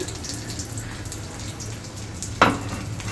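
Chushi vermicelli frying in hot ghee, a soft, steady sizzle with a low background hum and a single brief clink or stir near the end, close and fairly quiet, with no talking.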